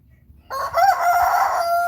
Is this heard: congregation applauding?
no